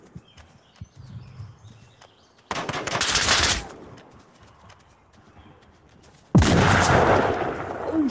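Bursts of automatic gunfire in the VR shooter Onward, two loud sustained volleys separated by quieter footsteps and movement, with faint background game noise between them.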